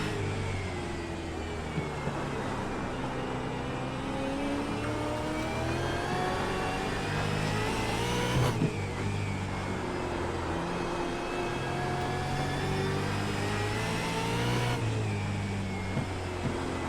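Supercars race at Oran Park in the iRacing video game, engines revving and climbing through the gears in long rising sweeps, loud and continuous, with other cars droning close by.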